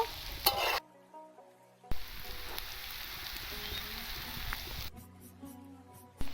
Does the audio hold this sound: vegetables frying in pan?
yes